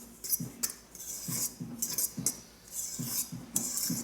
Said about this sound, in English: I just like to mix up the dry ingredients